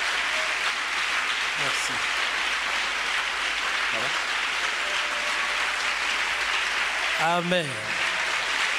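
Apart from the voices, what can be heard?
congregation applauding in church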